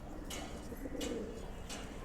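Silver pigeons cooing nearby in a soft, low, rolling coo that repeats through the moment, with a few faint brighter bird calls at intervals and steady background noise.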